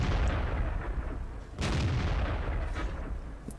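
The FV304, a tier 6 British self-propelled artillery gun in World of Tanks, fires in quick succession, giving heavy booming reports that roll into one another over a dense, rumbling battle din.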